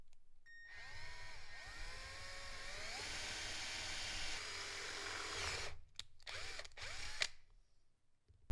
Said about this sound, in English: we are drilling out this hole so we can add a boost control tap here.